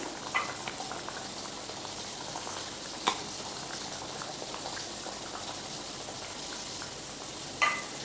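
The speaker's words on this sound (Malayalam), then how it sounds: "അതൊന്ന് തിളക്കട്ടെ." A Palakkad-style mango fish curry bubbles steadily in a pot, with fish pieces added once the mango is half-cooked. A continuous close simmering hiss is broken by a few faint clinks.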